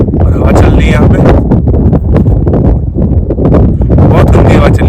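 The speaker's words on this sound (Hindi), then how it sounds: "बहुत गंदी हवा चल रही है यार दोस्तों" Strong gusty wind buffeting a campsite in India, strong enough to blow a tent down, roaring loudly into the microphone in constant rough bursts while someone talks over it.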